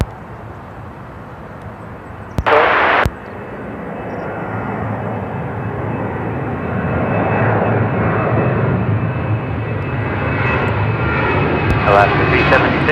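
A jet airliner spools up and rolls for takeoff on runway 34 Right at Seattle-Tacoma International, a broad engine roar building steadily from moderate to loud, with a brief sharp radio burst early on.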